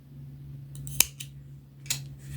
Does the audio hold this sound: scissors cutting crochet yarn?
yes